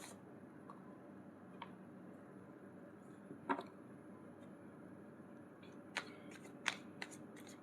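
Tarot cards being shuffled by hand, quiet and close, a faint papery riffle punctuated by a few sharp card snaps and taps, no talking.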